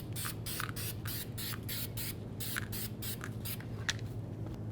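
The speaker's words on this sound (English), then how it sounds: "Let's spray this off." Brake cleaner sprayed in quick repeated bursts onto the rear brake parts of a 1999-2007 Ford F-250, a dozen short close hisses in a steady rhythm over a faint low hum.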